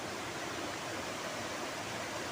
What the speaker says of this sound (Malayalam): നല്ല കുത്തി ഒലിച്ച് ഒഴുകുന്ന വെള്ളച്ചാട്ടം